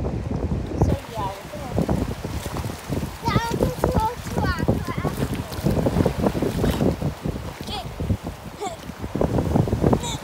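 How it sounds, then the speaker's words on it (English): Wind blowing on a beach, buffeting the microphone in a loud, constant roar with surf in the background. "from where the wind is blowing"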